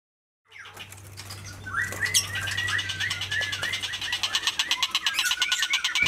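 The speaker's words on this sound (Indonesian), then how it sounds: "penangkarannya adalah burung berkicau dan juga ayam hias pisen" Songbirds at a breeding farm for songbirds and ornamental chickens chirp and trill in a dense, busy chorus, close and growing louder, with rapid repeated calls and a low hum underneath early on.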